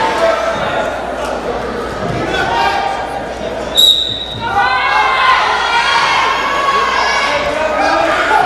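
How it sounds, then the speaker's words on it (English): A high school wrestling crowd cheers and shouts loudly in a gym, a sustained roar of voices with a sharp whistle-like peak midway, while a commentator talks over it. "As you can hear, the crowd is all pumped up."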